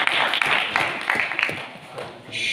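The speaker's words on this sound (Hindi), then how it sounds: "बजा दे ताली बजाए भाई का साहब" Audience applause at a long speech event: a crowd claps in a dense, uneven burst lasting a couple of seconds, with a voice talking over part of it.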